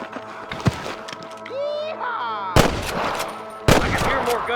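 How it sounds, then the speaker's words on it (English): Gunfire in Red Dead Redemption on PC, two loud sharp shots ringing out a second apart after a stretch of in-game noise and tonal sounds. "I can hear more gunshots"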